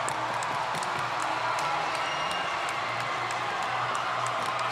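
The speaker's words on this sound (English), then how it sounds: "the crowd is going nuts here" Crowd noise fills a rink during an Edina vs. Wayzata boys hockey game after the tying goal, a continuous mix of cheers and scattered clapping holding at a steady level throughout.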